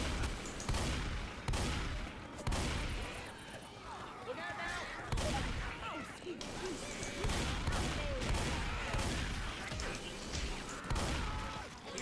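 Gunfire from shooting undead enemies in a zombie shooter game, repeated heavy bursts of shots at intervals, mixed with game noise and a voice speaking over it.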